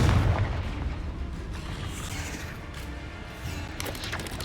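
A Confringo explosion spell cast in Hogwarts Legacy bursts as a heavy, booming blast over a dense, continuous rumble, with further thuds rolling through the whole stretch.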